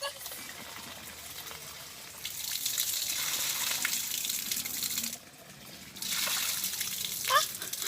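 Water gushes steadily at a rural village spot as someone comes with a mug to fetch it, a loud continuous rush that briefly drops away and then resumes, with some talk mixed in.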